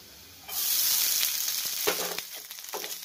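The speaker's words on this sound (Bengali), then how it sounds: "এখন রসুনটা ভাজা হয়ে গেছে" Garlic frying in butter in a pan starts abruptly with a loud sizzle, followed by crackling and occasional stirring clicks as the hiss continues; cooked rice is about to be added.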